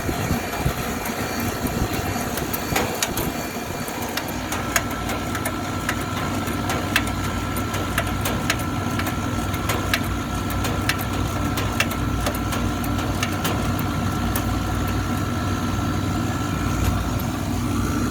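A beer cooler refrigeration system runs during a pump down, a steady mechanical hum and drone with faint intermittent clicks and rattles, continuous and fairly loud with no talking.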